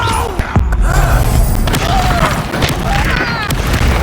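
Confringo spell explosion in the video game Hogwarts Legacy, a loud booming blast with crackling bursts and rumbling thuds under spoken voices.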